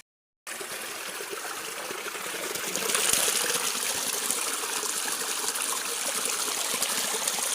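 Clear mountain stream water rushing and gurgling continuously, close by, a steady broad wash of flowing water with no voices.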